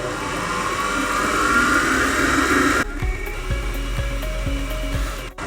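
An electric mixer whirs loudly and steadily while flour is blended into peanut butter cookie dough. Partway through the pitch drops to a lower, bumpier churning that carries on to the end.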